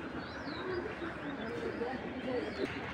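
A large female racing pigeon coos softly nearby, low wavering notes drifting under a steady background hiss.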